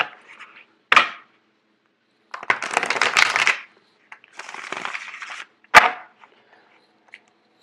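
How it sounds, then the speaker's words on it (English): Tarot cards are shuffled in several short bursts of riffling and slapping, close and crisp, separated by quiet pauses and a couple of sharp taps, with no talking. "I'm actually going to do one more shuffle."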